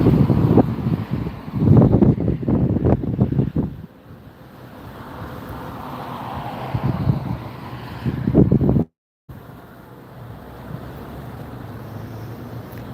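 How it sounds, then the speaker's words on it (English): Strong gusty wind at Las Vegas airport roars and buffets the microphone, surging in loud bursts, easing to a lower rush in between, and cutting out briefly near the end. "I personally wouldn't want to be flying on a day like this. So gusty, so windy here."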